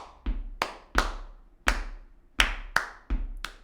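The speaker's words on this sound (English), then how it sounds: "And then clap it." Hands clap a steady rhythm at a music practice session, eight sharp, close claps in an even pattern with brief silence between them and no other sound.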